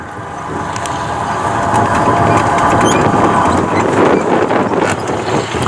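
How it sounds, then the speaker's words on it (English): Soviet T-55 diesel engine running in the back of a Yugoslav tank at a military vehicle show, a loud rumbling engine that builds and then holds steady, with clanking mechanical noise mixed in. "It's got a T-55 diesel engine in the back."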